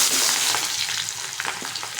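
Chopped onion sizzling in hot oil in a pan for an egg curry, a steady crackling fry with a few stirring scrapes, close and clear with no talking.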